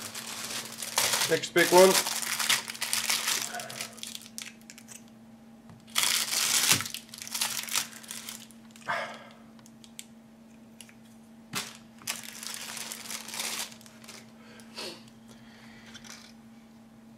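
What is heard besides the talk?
plastic model kit sprues rattling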